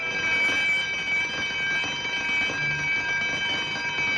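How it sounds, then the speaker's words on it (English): A palace alarm blares without a break, a loud, steady wail of layered high tones that holds level throughout with no voices over it. "That alarm meant that someone had been captured."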